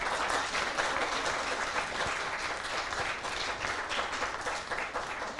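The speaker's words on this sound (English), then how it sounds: "Please give a big round of applause to our young devotees." A crowd applauds young devotees after a devotional drama, steady dense clapping sustained for several seconds with no talk over it.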